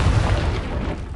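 A Confringo spell blast in Hogwarts Legacy, a single heavy booming explosion that swells up loud and close and then rolls off over about a second, with no voices.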